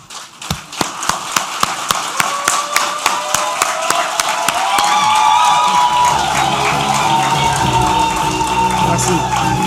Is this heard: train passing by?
no